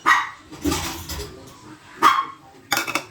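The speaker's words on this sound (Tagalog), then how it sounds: "Ang ingay ng aso namin." A dog barks in three or four sharp bursts, fairly close, with short pauses between them and no talking.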